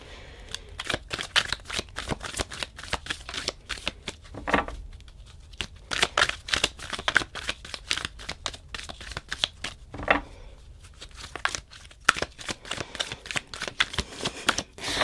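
Tarot cards being shuffled by hand during a pick-a-card reading, a steady run of close, crisp riffling and slapping bursts with brief pauses, heard alone without talk.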